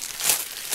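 Slightly plasticized paper crinkles close by in one short, bright rustle that swells near the middle and again at the end, with no voices.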